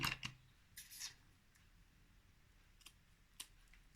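Scissors cutting card for a handmade greeting card, a few crisp snips up close, most packed into the first second, then sparse faint clicks against a quiet room.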